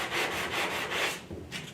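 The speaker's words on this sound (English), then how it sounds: "And then I'll just take my little sanding block I made" A small homemade sanding block rubs across wood on a bookcase build, flushing glued parts in steady back-and-forth strokes, about four close, dry scratchy passes with a short pause before the last.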